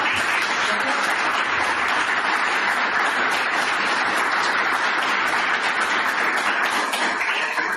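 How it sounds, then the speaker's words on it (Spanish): A conference audience at an event on investor challenges after Covid gives Sandra a sustained round of applause, even and continuous clapping filling the room throughout. "Les pido un aplauso, por favor, para Sandra."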